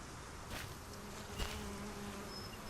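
Bees buzzing around a placed beehive in the Solarpunk survival video game, a soft continuous insect drone with a couple of brief louder passes, with no talk.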